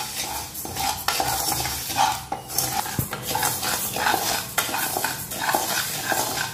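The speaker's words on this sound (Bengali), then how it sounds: "চালটা লাল লাল করে ভেজে নেব।" Rice being stirred and dry-fried in a pan until reddish, for a date sweet, gives a steady close scraping and rustling with intermittent utensil knocks against the pan and a faint sizzle, with no talking.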